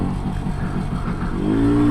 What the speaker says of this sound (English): Two-stroke power.